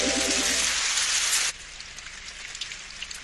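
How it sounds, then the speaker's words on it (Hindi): Steady, dense rain falling in a Hindi-dubbed Doraemon cartoon episode, a loud hiss that abruptly drops to a softer patter of scattered drops after a second and a half. "अरे बारिश।"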